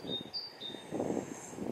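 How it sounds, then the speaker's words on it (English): Bird calls: a few thin, high whistled chirps over a low rumbling background, fairly faint and brief, with no talking. "You hear the birds calling?"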